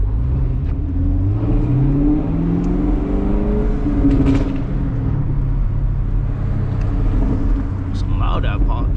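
A Chevrolet Camaro SS on a late-night drive gives a loud, continuous low engine drone with shifting exhaust tones and a couple of brief sharp pops toward the end.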